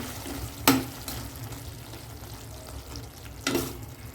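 Mushroom gravy cooking in a pan, a low continuous bubbling hiss with two sharp spoon knocks against the rim, close and unaccompanied by voices.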